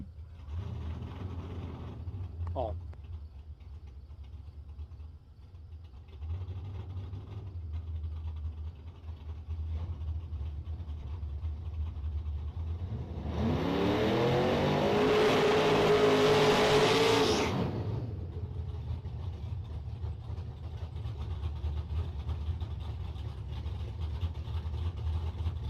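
Drag racing cars at a bracket jackpot event rumble at idle, then one roars through a loud, rising acceleration run lasting several seconds before dropping back to a low, steady engine drone.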